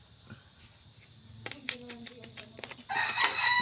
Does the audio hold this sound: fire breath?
no